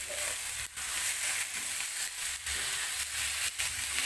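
Chicken pieces sizzle steadily in cooked spice paste, a dense continuous frying hiss with brief scraping stirs recurring every second or so, close and alone.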